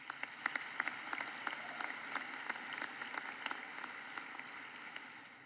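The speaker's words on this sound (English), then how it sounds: "So for the faculty, another round of applause," At a university commencement ceremony, scattered applause for the faculty sounds fairly quiet and distant, with a few sharper individual claps standing out over a thin continuous patter for about five seconds.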